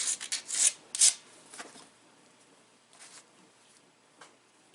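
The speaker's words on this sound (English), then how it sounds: "It will grind though, because that helps tremendously" Edge of a small dacite bird arrowhead ground against an abrader, a few quick loud rasping strokes at first, then fading to faint scattered scrapes and quiet handling noise.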